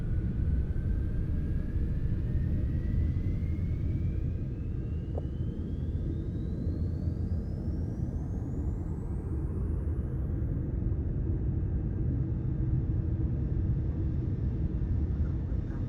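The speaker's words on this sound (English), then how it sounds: "Let's use our main thrusters to accelerate away and get back to Earth quicker." Main thrusters of a spacecraft firing in a space simulation game, a loud, steady, dense rumbling roar that holds evenly throughout while a faint thin tone climbs slowly in pitch.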